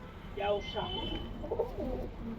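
Pakistani-breed pigeons coo softly at close range, a low throaty murmur that rises and falls over a couple of seconds beneath a voice.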